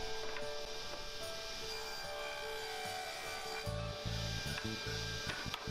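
A tool cuts grooves along plywood and jarrah box sides, a faint steady whirring with scraping, rubbing texture and a few sharper knocks toward the end.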